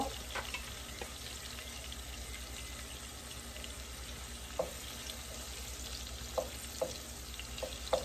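Pointed gourd (potol) frying in a pan, a low, even sizzle joined by a few sharp clicks and taps of the utensil near the end, with no talking.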